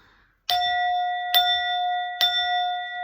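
A family bell is struck three times at an even pace, each strike a clear, close metallic ding that rings on with a long sustained tone before the next hit.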